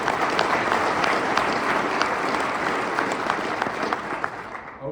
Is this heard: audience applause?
yes